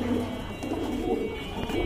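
Sabji racer pigeons kept in a pet collection coo softly and continuously, a low throaty murmur over steady background noise, with no one speaking.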